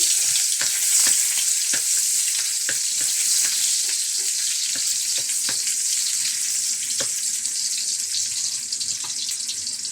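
Onion frying in oil in a pan for a sautéed bottle gourd dish with misua and sardines, a steady loud sizzle with scattered sharp clicks and taps throughout, no talking.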